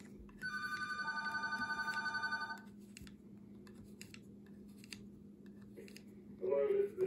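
A telephone rings in a quiet room for about two seconds, a steady pulsing electronic tone, followed by faint handling clicks and a brief voice near the end.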